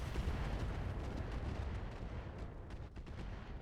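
Rifle shots in a video game ring out as a dense, continuous barrage of booming reports, loud and heavy with low rumble throughout, with a brief dip near the end.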